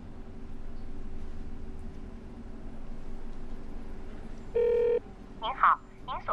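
A telephone call is dialed: a faint low line hum runs for several seconds, then a short steady beep sounds, followed by a couple of brief electronic tones.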